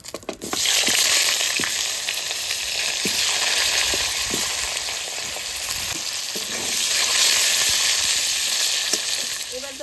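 Potatoes fry in a pan in a home kitchen, giving a loud, steady sizzle throughout, with scattered clicks and scrapes from stirring.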